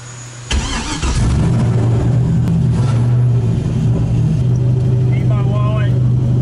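A Mazda Miata with a 1.8 engine is cranked and fires up, then runs loud and close with a steady drone and some revving; a voice speaks briefly over it.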